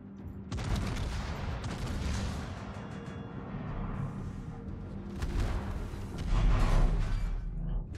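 Continuous heavy naval gunfire in the video game World of Warships, booming cannon blasts and rumbling explosions overlapping loudly for several seconds.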